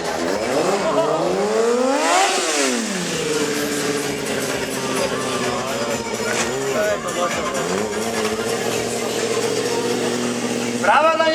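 A loud stunt motorcycle engine revs up and down repeatedly at a motorcycle season opening show, pitch sweeping high then dropping, with a crowd's noise underneath.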